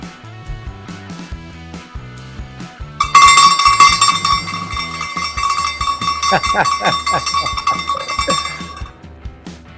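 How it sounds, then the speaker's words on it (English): An honorary cowbell is rung during the final lap of a virtual armed forces cycling race, starting after a few seconds and clanging loudly and repeatedly over background music for the rest of the moment. "They have an honorary cowbell that the riders that have done it 10 times get."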